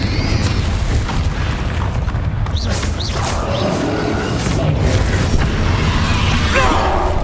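Confringo spell blasts in the Hogwarts Legacy video game make a loud, continuous rumble of booms and crashes with rushing magical whooshes during combat, dense and close throughout.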